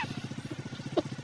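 A motorcycle engine idles close by with a quick, even low putter. A brief clatter sounds near the end.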